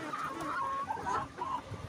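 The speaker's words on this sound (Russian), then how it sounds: "Вот такие петухи, они крупные, мясные, и жирочка в них много." Large, meaty, well-fed roosters on a farm, heard nearby as a run of clucks and short crowing calls overlapping one another over about two seconds, with no talking.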